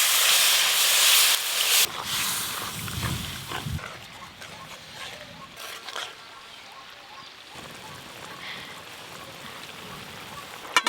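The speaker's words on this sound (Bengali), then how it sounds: "এবার জল দেব, পরিমাণ মতো জল।" Water is poured into a pan of frying spiced fish curry with tomatoes and green chillies, starting as a loud hiss and crackle that quickly settles into a softer sizzle and bubbling, with a few clanks along the way.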